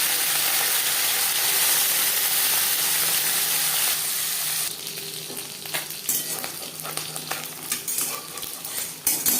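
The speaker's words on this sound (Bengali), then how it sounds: "এইভাবে একটু ছাড়িয়ে দিতে হবে প্রথম ব্যাচে মাছ ভাজার সময়।" Small mourola fish frying in hot refined oil in a wok, a loud, dense sizzle that drops to a lighter crackle partway through, with scattered clicks and scrapes from a spatula.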